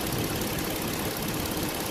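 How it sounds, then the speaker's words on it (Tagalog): Air-conditioning compressor running on a 2018 Hyundai Azera during a system clean and freon charge, a steady dense mechanical hum with a faint rapid knock, loud and close, without talk. "Compressor."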